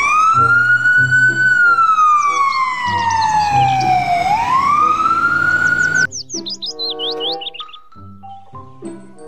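Electronic toy siren wailing up and down, loud and close, followed by a short jingly tune.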